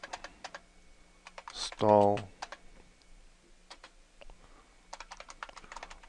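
Quick clicking keystrokes on a computer keyboard as a terminal command is typed, a light irregular patter close to the mic, briefly interrupted by a short voiced sound and then resuming.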